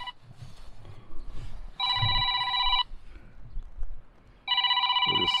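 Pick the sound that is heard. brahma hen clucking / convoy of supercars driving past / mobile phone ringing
mobile phone ringing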